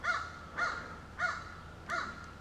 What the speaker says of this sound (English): And the crows, too. You can hear this one.